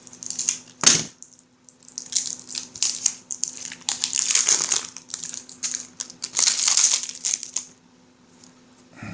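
Packaging around Dungeon Saga game cards is opened with close crackling and crunching of plastic wrap, coming in several bursts before falling quiet at the end.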